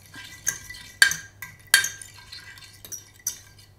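A marinade of olive oil, fine salt and Espelette pepper being stirred in a bowl, heard as a handful of close, sharp clinks spaced about half a second apart with quiet gaps between them.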